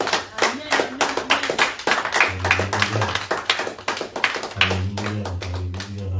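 A church congregation claps in rapid rhythmic unison, loud and close, with sustained keyboard or organ chords and some vocal sounds running beneath the applause.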